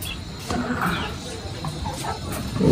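Chickens cluck around a backyard coop, a few grown birds giving short irregular calls at close range over steady background noise, with a louder burst near the end.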